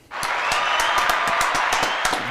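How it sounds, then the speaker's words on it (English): Studio guests clap on request at the start of a live table talk show with a New Zealand singer-songwriter, a dense, fairly loud round of applause with sharp individual claps standing out, beginning abruptly and holding steady. "Can I have some claps there, please?"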